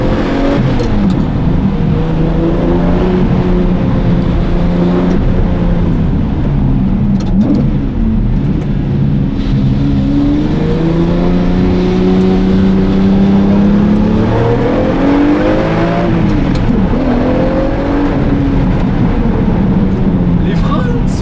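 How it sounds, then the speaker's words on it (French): A Lamborghini Murciélago LP-580 V12 with a manual gearbox accelerates hard, its loud engine note rising and falling in pitch through the run while someone talks over it. "Oh là, il a de la force le moteur."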